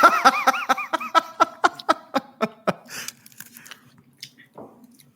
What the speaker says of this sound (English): There's a lot of crunch in that bite.